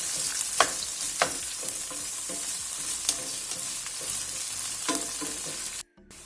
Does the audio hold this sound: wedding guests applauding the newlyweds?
no